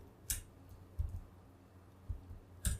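A computer keyboard is tapped while typing a command, producing a few faint, close, spaced clicks and keystrokes over a low steady hum.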